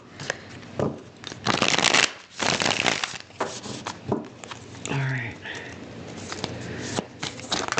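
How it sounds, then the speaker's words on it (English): Tarot cards riffled and shuffled in several quick bursts, close by, with a brief murmur of voice in the middle. "Let's do another shuffle."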